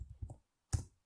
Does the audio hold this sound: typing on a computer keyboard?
yes